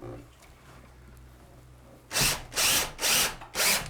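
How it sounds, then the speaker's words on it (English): A power drill drives a screw through a floating shelf board into a wall stud, four short loud whirring bursts in quick succession after a quiet lead-in. "I'm going to put the first screw in right here"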